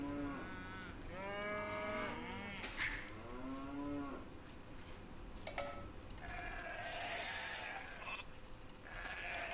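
Cows from the Age of Empires strategy game moo in several long, drawn-out calls close together, loud and clear over a steady background hum, with no talking.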